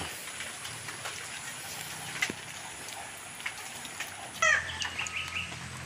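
Chickens cluck now and then outdoors over a steady hiss of background noise, with a brief louder burst of activity near the end.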